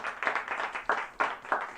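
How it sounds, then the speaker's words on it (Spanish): A church congregation claps briefly during a sermon, a short run of uneven, fairly quiet hand claps in loose rhythm. "Dale un fuerte aplauso al Señor si me está entendiendo."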